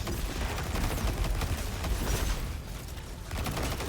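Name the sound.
gunfire from a Destiny 2 Strand build in a video game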